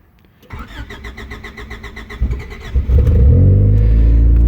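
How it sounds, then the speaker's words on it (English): A car engine with a freshly recharged battery cranks for a few seconds with rapid rhythmic churning, then catches and fires up into a loud, steady idle, recorded close by. "Hooked it on the charger, and it fires right up."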